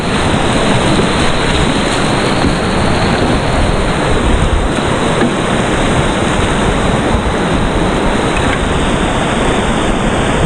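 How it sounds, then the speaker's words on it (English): Loud, steady rushing river water surges around a kayak close to the microphone, a continuous broadband wash with no pauses or talk. "Using the waves."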